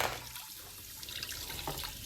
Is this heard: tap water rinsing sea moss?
yes